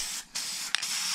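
A cheap aerosol can of spray paint hisses onto ABS plastic in two short bursts, with a brief pause and a faint click between them.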